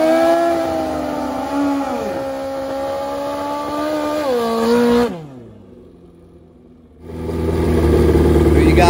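Old-school Kawasaki KZ and Honda CB motorcycles in a drag race, engines revving loud with rising pitch sweeps, then a brief lull before a strong roar returns.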